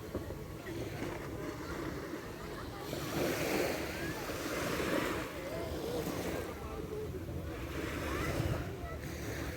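Sea waves wash in repeated swells near a beach resort cottage, mixed with steady wind noise on the microphone, while people talk faintly.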